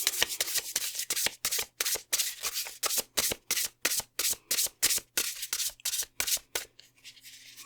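A deck of tarot cards is shuffled by hand in quick, regular bursts, each riffle a crisp papery rush followed by a brief pause, repeating steadily and close up with no talking, until the shuffling stops near the end.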